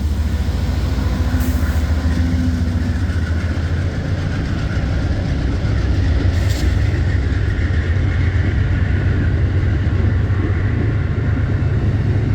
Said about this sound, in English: Leading the train was a solo P-42 with a P-32 on the rear end of the train.